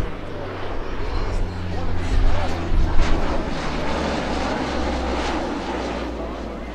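An HC-130H Hercules makes a flyby at the 2012 Jones Beach Airshow, a loud, continuous propeller-engine roar that swells to a peak near the middle before holding steady.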